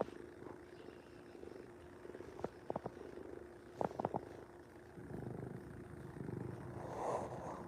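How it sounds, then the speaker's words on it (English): A cat's low, steady purr rumbles close by, broken by a few sharp clicks and shuffles; no voices. "Can you hear the purr? He's got quite a motor."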